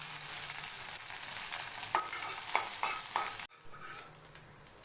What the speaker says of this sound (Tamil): 15 பல் பூண்டை போட்டு வதக்கிக்கோங்க.